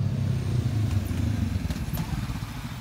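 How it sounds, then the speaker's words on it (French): A motorcycle engine braking while downshifting, a steady low rumbling drone with slight pulsing and faint clatter, heard close without any talk. "le frein moteur pour asseoir la moto"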